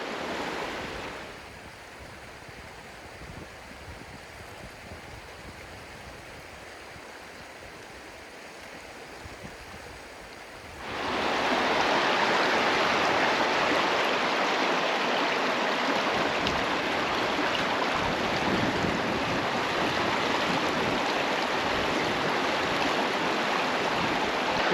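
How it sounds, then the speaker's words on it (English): An Idaho wilderness creek rushes steadily, a broad continuous roar of flowing water that jumps louder partway through as the listener moves nearer the current. "this is a gorgeous piece of creek"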